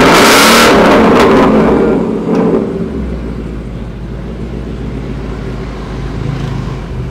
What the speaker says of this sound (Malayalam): ഇത് ബൊറില്ല എക്സോസ്റ്റ് അല്ലേ?